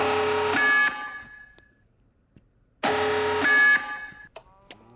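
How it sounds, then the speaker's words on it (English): Two loud bursts of a harsh buzzing alarm in modded Minecraft, each lasting about a second, separated by a quiet gap, with small electronic clicks and chirps afterward. "we've got some alarms in here, such as this one."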